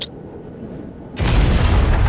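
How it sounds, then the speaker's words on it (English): A sudden deep boom of grenades exploding at night erupts after a quiet stretch, swelling into a loud, rumbling roar that sustains to the end. "Explosions ripped through the night, blooming fire where the truck had been."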